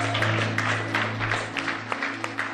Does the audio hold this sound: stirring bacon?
no